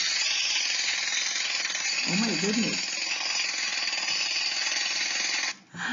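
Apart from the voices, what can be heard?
jackhammer breaking up a street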